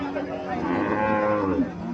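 A cow standing with her one-month-old calf gives a single long, close moo that rises and falls over a quiet background.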